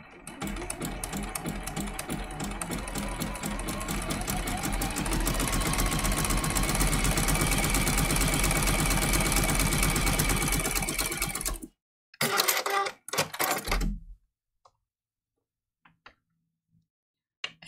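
A sewing machine runs a satin zigzag test stitch for a raw-edge appliqué mini quilt, whirring steadily and closely for about eleven seconds, then giving two short bursts before falling silent.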